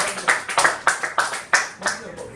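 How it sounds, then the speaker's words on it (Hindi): Applause from the audience at a girls' cricket tournament, for a player who scored 49 runs: a run of separate, fairly close hand claps in an uneven rhythm, sounding like a small gathering rather than a roaring crowd. "तो जोरदार तालियां"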